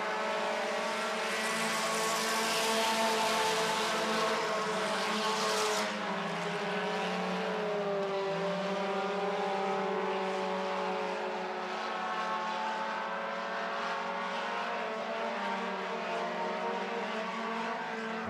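Four-cylinder stock cars race an oval track in a heat race, with several cars fighting for second and third. A loud, steady engine drone runs throughout, its pitch slowly rising and falling, with no voices.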